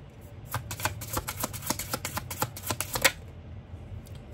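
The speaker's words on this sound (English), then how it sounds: "let me get two cards for Capricorn" Tarot cards shuffled by hand in a steady run of crisp riffling flicks for about two and a half seconds, close and clear, then tapering off with no speech over it.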